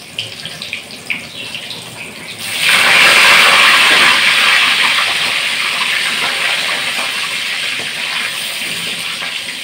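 Eggplant hits hot oil in a large wok, setting off a loud, sustained sizzle that swells suddenly and then settles into a steady hiss, with no talking.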